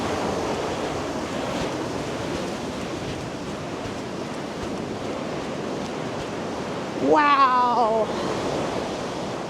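Ocean waves surge and wash into the Cathedral Cove rock archway at high tide, a steady broadband roar that swells louder near the end, with a brief exclamation and a short whistling call cutting across it.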